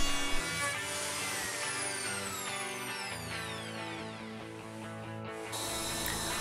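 A router fitted with a roundover bit shapes the front edge of a wooden night stand, giving a continuous high-pitched whine with shifting tones and no speech.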